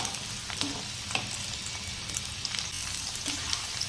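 Okra frying in a pan of oil while being stirred, a steady close sizzle broken by crackling pops and light scraping of the stirring, moderately loud, with no voices.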